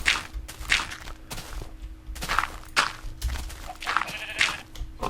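Several short Minecraft sheep bleats come and go among soft footstep-like thuds, moderately close with no one talking.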